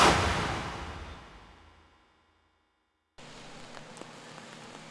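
Rain falls on a rainy Sunday at a taekwondo contest in Gwangju, a steady broadband wash that fades out over two seconds, then silence, then a quieter rain hiss with faint scattered taps.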